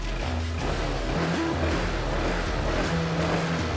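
A Honda PCX 160 scooter engine starts and settles into a smooth, steady idle close by, a continuous low hum running through the whole moment.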